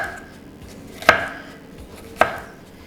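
Knife slicing fresh vegetables, a seeded pepper, for fajitas: two sharp, separate cuts about a second apart against a quiet room, no talk.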